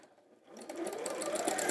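A domestic sewing machine stitching decorative stitches, a steady fast whirring that starts softly and builds after a brief quiet opening, running continuously and fairly close.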